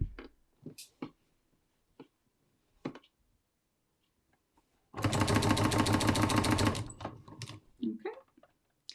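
A sewing machine stitches binding onto a quilt wall hanging along a fold line, running in one steady loud burst of rapid mechanical chatter for about two seconds, with quiet taps and handling noises before and after.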